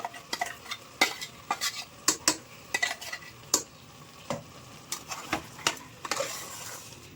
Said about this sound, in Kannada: ಬಿರಿಯಾನಿಗೆ ಖಾರ ರುಬ್ಬಿಟ್ಕೊಂಡಿದ್ವಿ, ಅದನ್ನು ಇವಾಗ ಹಾಕಿ